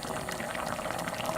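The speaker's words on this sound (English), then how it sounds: "it's just boiling up now, so I'm going to reduce it to a simmer" A pot of vegan sausage rougaille sauce with tomatoes boiling up, a steady dense bubbling and gurgling that stays close and even throughout, with no talk.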